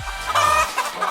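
A person imitating a chicken, giving a short burst of clucking calls, close and fairly loud, with a few quick rhythmic bawk-like notes and no other talk.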